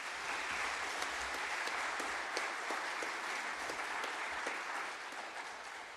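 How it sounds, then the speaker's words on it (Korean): Sustained applause from a church congregation at a pastors' ordination service, a dense, steady wash of many hands clapping that carries evenly throughout and eases slightly toward the end. "같이 한번 박수하시겠습니다."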